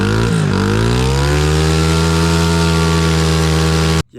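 A big-bore Honda CRF50 dirt bike runs on jet fuel. Its small engine hums at a steady, loud idle after a quick blip of revs at the start, then cuts off abruptly at the end.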